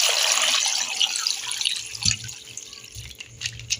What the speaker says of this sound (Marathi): पाणी टाकूया त्याच्यात।